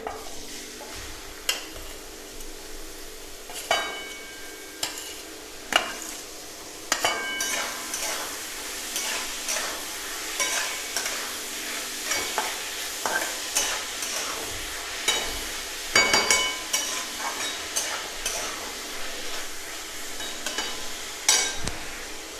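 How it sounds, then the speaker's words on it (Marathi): Onion frying in hot oil and being stirred in a pan. A steady sizzle runs underneath, with frequent sharp scrapes and clinks of the spoon against the pan throughout. "तेल आपलं तापलं आहे याच्यामध्ये कांदा घालून घेऊया"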